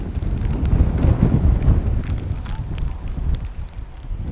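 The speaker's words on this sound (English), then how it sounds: "that wind's just blown the tripod over, along with my pole over there" Strong gusts buffeting a microphone beside a reservoir, a loud low rumbling roar that swells and fades unevenly.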